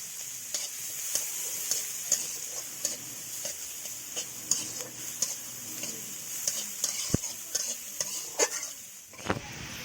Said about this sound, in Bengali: ভেজে নিব একটু পেঁয়াজ বেরেস্তা দিয়ে দিলাম, পেঁয়াজ কুচি